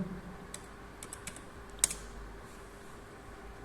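Password typed on a computer keyboard, a handful of faint scattered key taps with one sharper click near the middle, quiet and close, with no talking.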